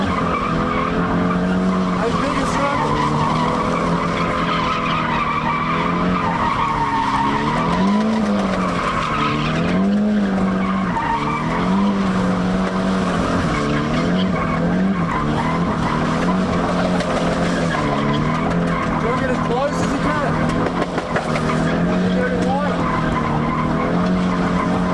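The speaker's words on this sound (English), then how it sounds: "Use a combination of throttle control and steering to change the radius of your circles." A car drifts in circles, tires skidding and squealing in long wavering whines over a revving engine, loud and continuous with rising and falling pitch as throttle changes.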